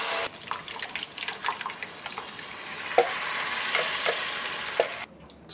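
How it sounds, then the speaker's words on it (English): Pureed tomato pours into a hot pot of rice on the stove, giving a steady close sizzling and bubbling wash with a few soft liquid splashes and clinks, ending abruptly. "here's where we're going to add a pureed tomato to the pot"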